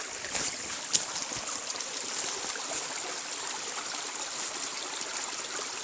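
Upstream creek on rural Alabama acreage with pines, water rushing and hissing in a steady, even wash with a few small splashes, no voices.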